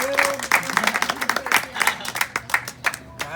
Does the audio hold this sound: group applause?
yes